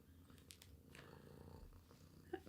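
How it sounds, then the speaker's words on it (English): A cat purrs softly and steadily, close by and quiet, with a few faint clicks and rustles near the end. "He's purring."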